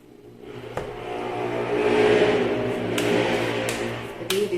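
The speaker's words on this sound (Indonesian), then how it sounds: "Di sini motor sama mobil lomba loh suaranya." Motorcycles and racing cars rev and whir outside in Manado, North Sulawesi, a continuous engine drone rising and falling in pitch, with a few sharp mechanical knocks cutting through.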